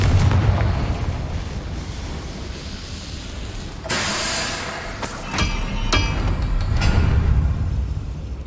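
Explosive Confringo spell blasts in Hogwarts Legacy on PS5, a loud roaring burst followed by a hissing, crackling surge and several sharp impacts over rumbling background noise.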